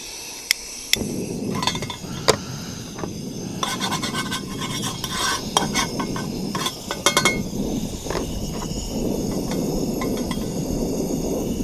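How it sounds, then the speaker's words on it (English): Goat chops searing in olive oil in a pan over a portable camp-style flame, a steady sizzle with scattered sharp metallic clinks and taps from utensils, no talking. "We're gonna try searing these a little bit."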